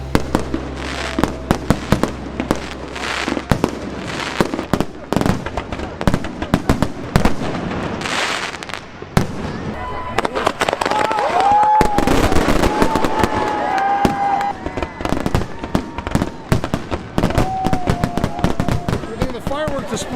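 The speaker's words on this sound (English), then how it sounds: "looking forward to the fireworks starting up very shortly." Fourth of July fireworks at St Croix Island International Site, Maine, pop and crackle in bursts, sharp bangs echoing with whistling rockets, a crowd murmuring and voices underneath.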